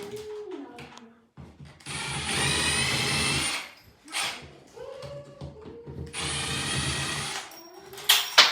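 A power driver loosens two straight screws holding an electrical mounting bracket during an off-grid home conversion, heard as two long, loud whirring bursts close by, separated by a short pause filled with small handling clatter.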